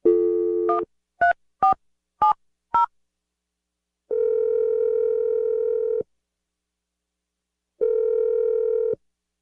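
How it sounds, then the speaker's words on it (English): A telephone being dialed for a call on the Brooke and Jeff radio show: a steady dial tone, then five short touch-tone beeps, followed by two long ringback or dial tones separated by silence, clear and alone. "I'm going to dial the number."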